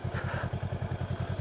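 A 2025 Honda Rebel 500 motorcycle loping slowly around a parking lot, its low engine pulsing in a steady, rapid thumping rhythm, close and fairly loud, with no one talking.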